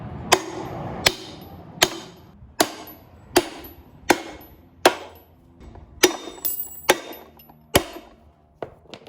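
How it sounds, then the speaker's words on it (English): Hammer blows pounding out a Dana 60 axle hub assembly during a teardown, about a dozen sharp metallic strikes at a steady, slightly irregular pace, close and ringing briefly after each hit. "then you can use your hammer"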